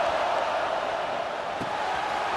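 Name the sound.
stadium crowd in video game EA Sports College Football 26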